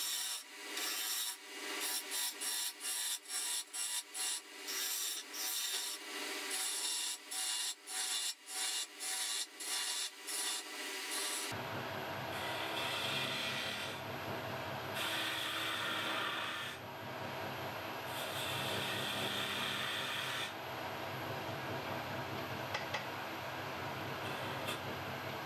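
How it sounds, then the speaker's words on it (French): Wood turning on a lathe as a flour scoop handle is profiled, producing a dense scraping and rubbing hiss in quick strokes, then a steadier, louder abrasive rasp with a continuous machine hum. "C'est le moment d'enlever du bois pour profiler la poignée."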